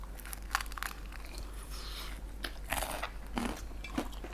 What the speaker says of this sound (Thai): ลองกินกากหมูกับสาหร่ายดูบ้าง